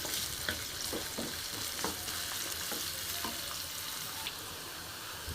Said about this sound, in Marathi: ह्यालाही छान असं भाजून ह्याच्यामध्ये भाजून घेते.